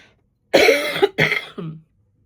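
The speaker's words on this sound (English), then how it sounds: "I'm sure you heard a little bit of that cough in my last video." Two harsh, close coughs in quick succession, followed by a softer trailing cough, then silence.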